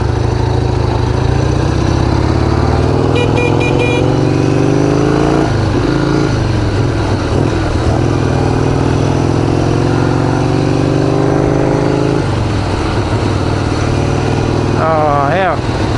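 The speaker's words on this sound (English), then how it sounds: "this is my first ride on a Harley" A custom Harley-Davidson XR883 motorcycle runs up close, its engine a loud steady rumble that shifts pitch as the throttle changes, with someone talking over it at times.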